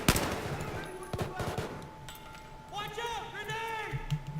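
Gunfire in the video game Battlefield 4, with sharp rapid shots and bursts cracking in the middle distance amid game noise and a rising whine, while someone talks over it.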